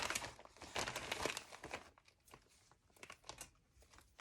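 A large bag of fabric trims is handled up close, producing bursts of plastic crinkling and rustling, louder at first and then sparser, quieter crackles.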